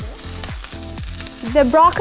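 Vegetables hit a hot stir-fry pan with a loud, close crackling sizzle, with rhythmic stirring scrapes and a brighter burst of frying toward the end.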